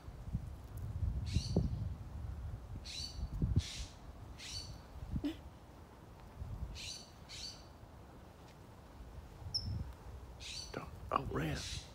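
A small bird calls repeatedly from a tree outdoors while cats lurk below, giving short sharp chirps in irregular bursts, some clear and close, over a low rumble of background noise.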